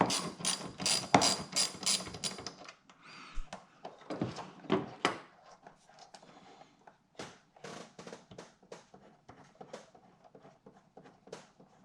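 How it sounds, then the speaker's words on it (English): An 8mm socket ratchet removes a bolt during a cold air intake install on a Dodge Challenger Hellcat, giving rapid close clicking bursts, loud at first, then sparser, quieter ratchet ticks and metallic clatter. "Now I'm gonna use my 8mm socket."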